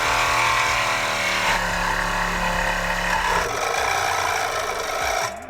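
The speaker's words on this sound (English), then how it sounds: "So we're gonna switch to a little Durafix action and just lop this guy off." Durafix saw slicing through the exhaust pipe of a brand-new BMW M3 during a Dinan exhaust install, a loud continuous rasping cut with steady buzzing drive and grinding metal, alone without talk.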